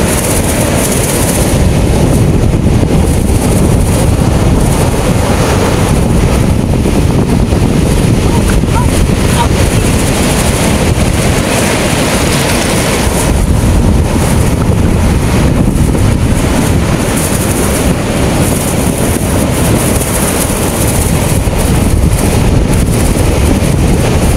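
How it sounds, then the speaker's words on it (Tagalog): Large waves at sea off Baler, Aurora Province, heard from aboard a boat: a steady, loud roar of water, wind and hull noise that continues without a break throughout. "Laki ng alon, no?"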